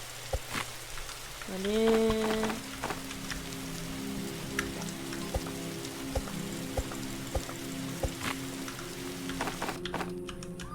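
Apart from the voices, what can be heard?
rain falling in video game 99 Nights in the Forest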